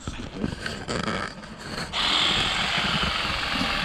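A high-pitched motor starts up and runs steadily, a continuous buzzing whine like a hedge trimmer, following a few seconds of rustling and handling noise.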